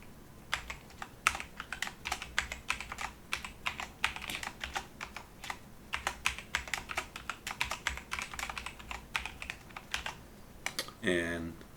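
Fingers tap out a password on a computer keyboard in quick irregular bursts of crisp clicks, close and fairly quiet, ending with a short rapid run of keystrokes.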